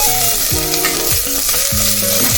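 Onions and green chillies fry lightly in oil, a steady close sizzle with bright crackle and occasional stirring scrapes, no voices.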